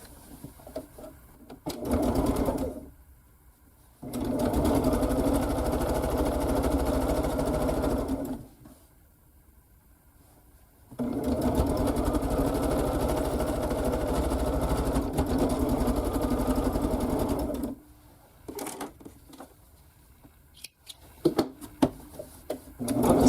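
A sewing machine stitches quilt pieces in long, steady whirring bursts, running for several seconds at a time with pauses between, loud and close, followed by faint handling noises at the end.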